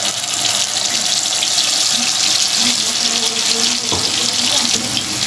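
A little water poured into a curry pan of frying paste and spices for chhanar kalia, a steady close hiss and trickle running for the whole stretch with no talk.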